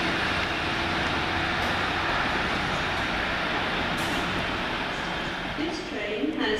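A three-coach First Great Western passenger train on the Warminster to Great Malvern service rumbles steadily near Dilton Marsh station, a continuous broadband drone that eases slightly toward the end.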